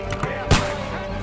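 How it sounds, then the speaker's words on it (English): A cannon fires in Kingdom Come: Deliverance 2 during a battle, one sharp loud boom cutting through a constant din of fighting and shouting. "We still have that cannon."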